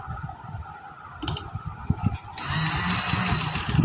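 A sewing machine stitching lace along the edge of a V-shaped neckline, with brief starts and then a steady close whir running to the end, alongside handling noises of the fabric.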